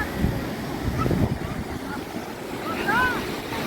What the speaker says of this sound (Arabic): الموج يعتبر مش عالي عن اخر مره جينا هنا